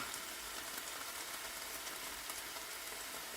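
Masala sizzles softly and evenly in a pan for a paneer roll. The spices are salt, coriander powder, cumin powder and Kashmiri chili powder. There is no talking.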